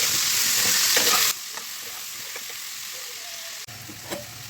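Loud, steady sizzling of potatoes frying in hot oil on high flame, dropping to a softer hiss partway through, with occasional light clinks.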